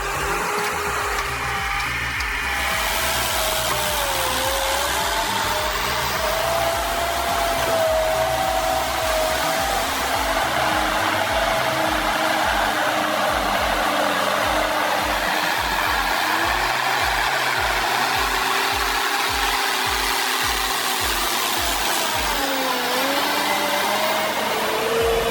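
A Valmet 840.3 forestry machine works in the forest with a loud, continuous engine roar. Its pitch sways gently as the load shifts, and low rhythmic pulsing runs underneath, with no voices.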